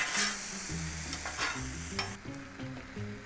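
Shrimp for fried rice sizzling in a pan as they are pushed around, a bright hiss with a few utensil scrapes and faint background music.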